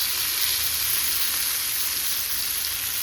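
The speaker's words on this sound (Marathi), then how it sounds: "म्हणजे सर्वात आवडती मच्छी म्हणजे फ्राय मच्छी." Fish frying in a pan for an Agri-Koli style fish fry gives a bright, continuous sizzle, close and steady, with no voices.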